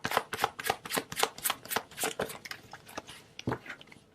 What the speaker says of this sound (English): Let's get one more card here.